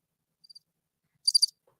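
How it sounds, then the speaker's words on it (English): Two short cricket chirps in quiet surroundings: a faint brief trill, then a louder, sharper burst of chirping a moment later. "That's the crickets. I hear a cricket."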